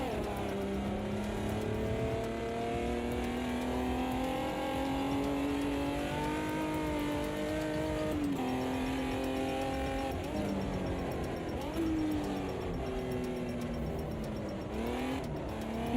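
Race car engine in a racing video game held under steady throttle, a continuous loud drone with pitch climbing and dropping through gear changes over about sixteen seconds, no talk.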